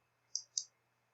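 A computer mouse clicks twice in quick succession, crisp and close, in an otherwise quiet room with a faint low hum.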